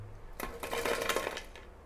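Crispy fried cauliflower pieces being pulled apart up close, giving a dense cluster of dry crackling snaps that builds and fades over about a second, with no talking.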